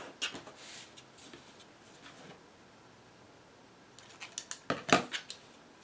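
Paper for a mini album sliced along a metal-edged trimming ruler, a few short scratchy cutting strokes near the start and again a louder burst near the end, with quiet pauses between.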